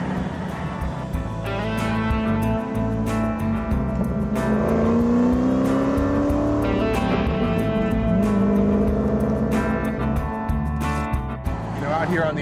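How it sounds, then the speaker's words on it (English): A 2004 Ford Mustang engine revs hard at full throttle on an open road, its high whine rising in pitch as it accelerates, loud and close, with a voice talking over it. "that whine that you get out of the engine when you're flooring it"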